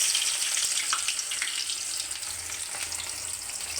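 Onions frying in a pan with cumin seeds for tomato rice, a steady close crackling sizzle with faint scraping, no voices.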